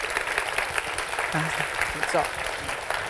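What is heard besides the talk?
audience applause thanking the speakers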